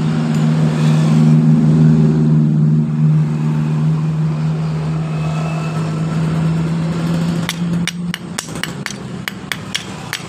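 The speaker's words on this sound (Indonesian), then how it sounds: "Ini yang diakibatkan suara kasar ketika kita memencet elektrik starter tadi" A Honda Mio Soul scooter with a worn starter armature gives a rough, steady drone when the electric starter is pressed, then a quick run of sharp knocking taps near the end, all close up.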